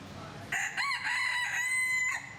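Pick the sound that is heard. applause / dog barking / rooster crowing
rooster crowing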